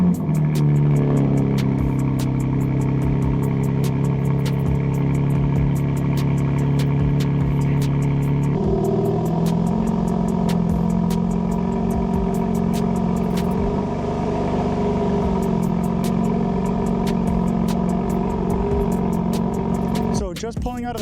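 A BMW G8X M3/M4 fitted with a Supersprint J-pipe idles close by on a street, holding a deep, steady drone that shifts slightly partway through and rises briefly near the end.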